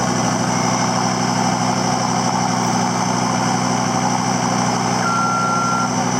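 A Case CT332 compact track loader runs without a muffler, its engine a loud, constant, throaty drone with a steady low pulse and a faint tonal beep near the end.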